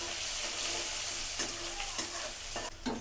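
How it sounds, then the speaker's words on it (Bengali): Chopped onion fries lightly in a pan with cumin, giving a steady close sizzle punctuated by a few spoon scrapes and stirring clatters, with no talk. "হালকা করে ভাজবো পেঁয়াজ"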